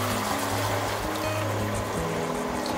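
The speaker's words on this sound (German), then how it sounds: "Darüber gieße ich jetzt die Fleischbrühe" Meat broth pours steadily over cabbage rolls in a pan, giving a continuous close liquid splashing and trickling with no talking.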